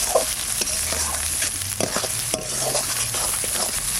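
Spice masala of cumin, coriander, turmeric and salt being sautéed in a pan, giving a continuous close sizzle with a few spoon scrapes and knocks against the pan.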